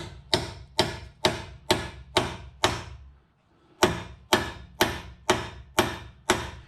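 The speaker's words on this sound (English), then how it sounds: "I can easily drive a wedge into this slot to free up the ball joint" A wedge is hammered into the slot of a Hyundai Santa Fe's lower control arm to free the ball joint, twelve sharp, loud metallic strikes in a steady rhythm with a brief pause midway, no talk.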